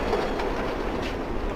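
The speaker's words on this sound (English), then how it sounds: "Trains are going to have their fair share of noise" A train rolls past on the rails, a steady, close rumble with faint rhythmic clatter from the wheels and no voices over it.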